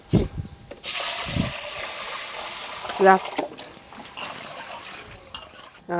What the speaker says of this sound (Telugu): ఇప్పుడు ఇది రెండు సార్లు కడిగి ఉంచుకోవాలి